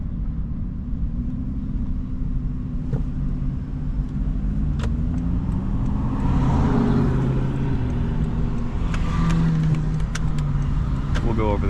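A car whose owner had lost throttle control accelerates hard on the road, its engine and road rumble rising to a louder, fuller roar as a person speaks over it.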